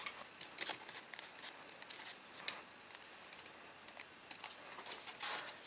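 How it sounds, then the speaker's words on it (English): Scissors snip and crinkle through paper or card while cutting a center hole for a homemade magnetic compass, a cluster of small, close, irregular cuts and rustles with no voices. "Now I need to cut the center hole."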